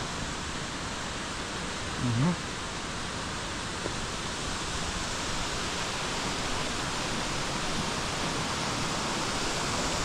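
A river rushes past in a steady, dense, broadband roar that stays loud and constant throughout, with a brief faint voice-like sound early on.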